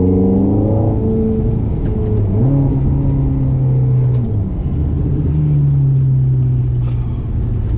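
A 2007 Ferrari F430 engine revs and accelerates loudly from inside the cabin, pitch climbing through gear changes with a deep, continuous rumble.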